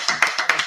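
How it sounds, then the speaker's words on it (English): A few people clap in a slow, uneven rhythm, with about six distinct claps over less than a second at a religious gathering. The claps are close and fairly loud, and no one is talking. "Clap it up."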